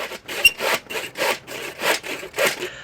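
Handsaw cutting wood during a back cabin rebuild, about six steady rhythmic strokes, each a rasping push-pull burst, close and alone with no talk.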